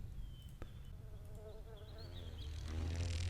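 A beetle creature in the game Riven makes a buzzing, insect-like drone over an ambient background, with faint chirps and a swell of low rumble near the end.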